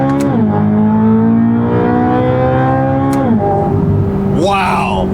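Corvette C8 ZR1 engine revving under hard acceleration, a loud close harmonic drone rising in pitch, dropping at two gear shifts and climbing again, with a brief whoosh near the end.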